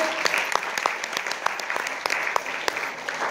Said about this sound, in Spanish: Quiero que se den un fuerte aplauso nuevamente.